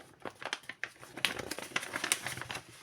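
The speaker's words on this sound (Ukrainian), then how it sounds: "зараз будемо відкривати іменно пакетик." A paper packet is torn and opened, with irregular crinkling and rustling at close range, no voices.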